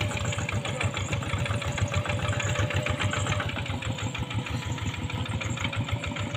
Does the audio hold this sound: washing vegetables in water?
no